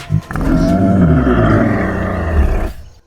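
Drawn-out dinosaur call from the Dinosaur Simulator video game, a deep, loud, groaning roar with a brief grunt at the start, sustained for nearly three seconds before cutting off.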